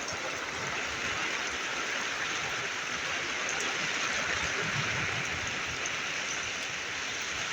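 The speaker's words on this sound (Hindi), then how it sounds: "काफ़ी तूफ़ानी बारिश हले थी पई।" Steady, heavy stormy rain in a village in Sindh pours down without a break, a dense roaring hiss of water that fills the whole scene.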